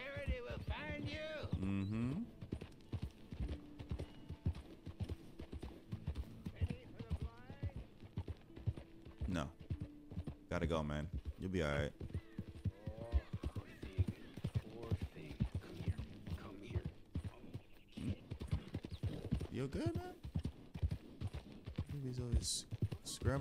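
Horse hooves trot in a steady clip-clop rhythm through Red Dead Redemption 2 gameplay, mixed with game music and someone talking over it for most of the stretch.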